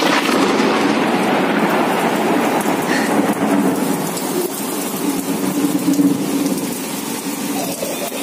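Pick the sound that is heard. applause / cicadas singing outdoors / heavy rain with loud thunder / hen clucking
heavy rain with loud thunder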